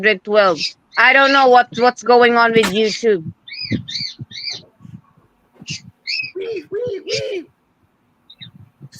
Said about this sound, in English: Sorry about my birds, okay?